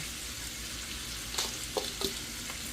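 Garlic and onions frying in a pan, a steady close sizzle with a few brief clinks and stirring knocks partway through.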